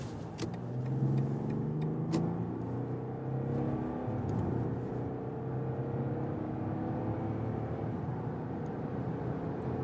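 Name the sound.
BMW 740d xDrive accelerating on German motorway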